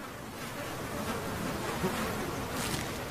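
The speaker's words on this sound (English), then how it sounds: "The air is now clouded by buzzing swarms of bloodsuckers." Dense swarms of bloodsucking insects drone over the open tundra, a continuous close buzzing with no pauses.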